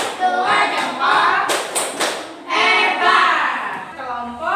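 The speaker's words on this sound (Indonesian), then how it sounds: "Kita berikan tepuk jempol lagi. Tepuk jempol." A class of Indonesian fifth-grade children do the thumb clap (tepuk jempol) in a classroom, their rhythmic group clapping mixed with bursts of children's voices and chanting.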